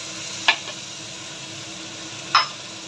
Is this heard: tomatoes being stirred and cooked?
yes